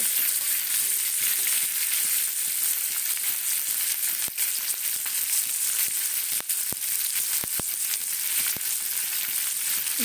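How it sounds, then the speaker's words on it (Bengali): Amla pickle is stirred in oil in a frying pan, with a steady close sizzle and occasional scraping clicks of the spoon against the pan, with no voices. "নাড়া দিয়ে এভাবে একটু নাড়া দিতে হবে দানা থেকে"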